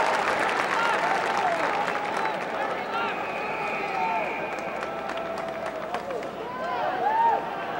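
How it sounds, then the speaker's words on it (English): Crowd at a 1987 Syracuse versus Hobart lacrosse game applauding a goalie's save, a steady sustained clapping from the stands with a commentator talking throughout. "And he's going to get a nice round of applause as he stopped."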